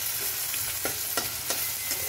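Garlic frying in hot oil in a pan gives a steady close sizzle, with a few brief clinks of a stirring utensil on top and no voices.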